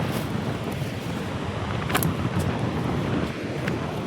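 Sea washing against the shore in strong wind, a loud, continuous blustery rush of gusts buffeting the microphone over the surging water, with no voices.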